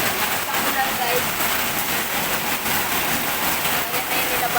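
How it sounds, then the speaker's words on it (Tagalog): Dense, steady roar of heavy rain pouring down, a constant hiss with no breaks throughout. "Lakas ang ulan, guys."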